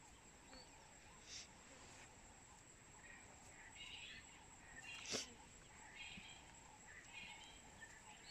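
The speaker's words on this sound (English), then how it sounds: "The sound you're hearing in the background is a francolin." Francolin, a small African partridge-like ground bird, calling in the background of the wild bush, faint scratchy calls repeating over a steady insect drone.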